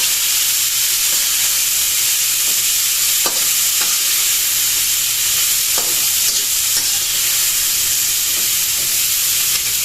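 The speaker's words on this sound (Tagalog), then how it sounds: "ilalagay na po natin itong ating gulay. Atin na po nga haluin." String beans being stirred in a hot pan, a loud continuous sizzle and hiss with occasional scrapes and clinks of the spatula, close up and with no voices.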